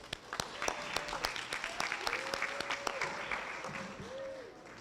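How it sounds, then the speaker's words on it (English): Wedding guests clapping in a scattered, lively round of applause, the individual claps sharp and close, with someone speaking through the middle of it. "let's give a round of applause to the Outlaws right here"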